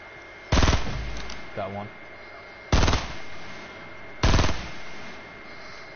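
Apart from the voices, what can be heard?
gunshots in the video game Fortnite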